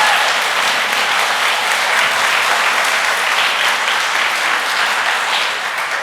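A school audience applauds a kindergarten class at an elementary school celebration, with dense, sustained clapping from a large crowd filling the room evenly throughout.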